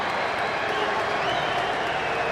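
Dodger Stadium crowd applauding steadily as a batter steps to the plate, dense continuous clapping and crowd roar at an even level, no single voice standing out.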